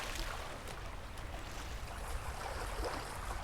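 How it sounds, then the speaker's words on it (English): Steady rushing water in the SOMA video game, a continuous wash of sloshing, surf-like noise that stays close and fairly loud throughout with no voices. "It sounds like water."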